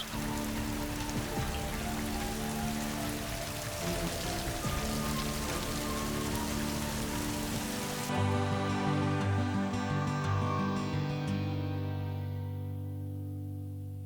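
Rain falls on the Cape Peninsula in South Africa as a dense, even patter, with a low background score running under it.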